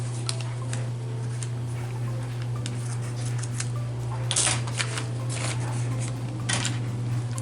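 Paper scraps are snipped with scissors in a crafting session, heard as faint, scattered cuts and rustles over a steady low hum, with a few louder snips near the middle.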